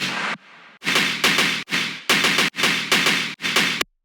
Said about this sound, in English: this is the gun I used.